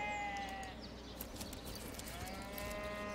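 Farm animal bleats from the fantasy role-playing game Divinity: Original Sin, faint and drawn-out calls at the start and end over a quiet ambient game background.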